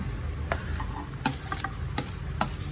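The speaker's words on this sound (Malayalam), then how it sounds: "ഇനി നമ്മള് ഉപ്പിട്ട് വെച്ച മാങ്ങ ഇതിലിട്ട് ഇളക്കി കൊടുക്കാം." Salted mango pieces are stirred into a pan for mango curry, a few distinct scraping strokes of a spoon over a soft sizzle, close and fairly quiet with no talk.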